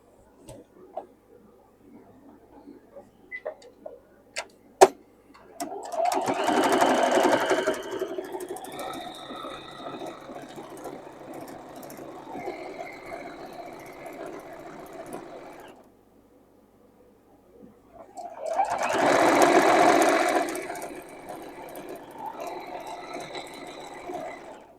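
A sewing machine stitches straight seams through fabric for a sewing room clock, two bursts of rapid mechanical chatter, the first several seconds long and the second shorter, close and clear amid quiet pauses with small handling noises.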